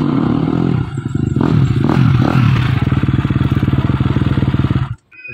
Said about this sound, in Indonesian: Motor ieu teh motor KTM 250 cc.